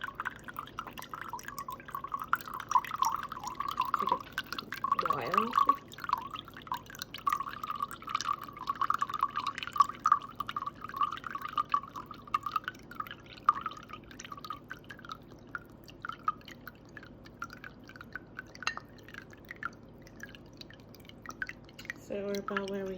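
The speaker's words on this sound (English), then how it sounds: "we're gonna use rice vinegar, and we're gonna put just about 1/3 of a cup or in here also. So just watch me pour" Rice vinegar pours slowly into a jar for pickled cucumbers, a faint trickling and dripping stream running on for a while, with brief speech over it.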